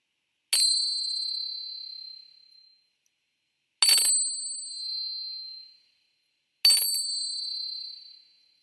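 Three clear, high metallic strikes of Tibetan bells spaced about three seconds apart, each ringing out and slowly fading before the next; calm and isolated with no voices.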